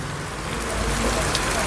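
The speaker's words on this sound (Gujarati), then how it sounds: "એક જ ધારો આ રીતનો વરસાદ ચાલુ છે।" Steady monsoon rain pours over a farm where onions are sown, a dense even hiss close around with no pauses.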